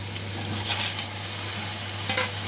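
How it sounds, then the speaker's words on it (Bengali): Potatoes stirred and fried with a little water in cooked-down spice paste for a Bengali katla fish curry, a steady close sizzle with scraping stir sounds and a low constant hum beneath. "একটু জলের সাথে আলুটাকে দিয়ে এবার ভালোভাবে কষে নেব"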